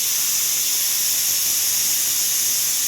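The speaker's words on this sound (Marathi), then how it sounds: "वाफ निघाली" A pressure cooker vents steam in a loud, continuous high hiss that stays constant for the whole moment, with no talking over it.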